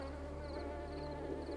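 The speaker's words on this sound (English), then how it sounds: "Why do I keep hearing flies or bees?" Insect buzzing, like flies or bees, drones steadily and quietly through the whole stretch in the video game Secret World Legends, a constant low hum with faint higher tones and no talking.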